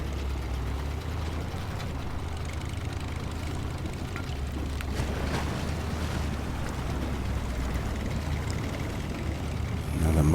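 A Lodestar truck in SnowRunner grinds through a muddy stretch, its engine droning in a steady, loud, continuous roar that rises slightly toward the end, with no talking.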